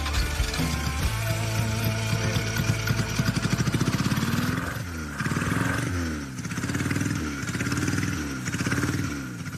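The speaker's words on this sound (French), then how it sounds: "ce qui intéresse le jury, c'est d'entendre le vrombissement du cœur mécanique de la barquette" Restored Bouvot Caron barquette engine running loud and close, a steady rumble that swells in repeated revs during the second half.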